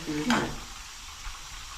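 Onion, tomato and chilli frying in a pan, a soft steady sizzle with a brief stir near the start, quiet and close, a voice speaking briefly at the beginning.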